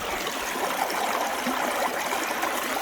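Water rushes steadily through a Dream Mat gold sluice set at about 8 degrees pitch, a continuous close, even flow with no voices over it.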